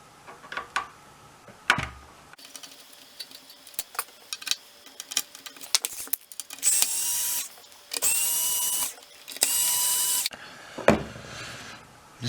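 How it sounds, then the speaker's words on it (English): Phillips screws being undone on the metal shielding inside a Nintendo NES console, a power screwdriver whirring in several short bursts between quiet clicks and handling taps, close up. "the next step is to undo all these screws. They're all Phillips screws holding down this shielding."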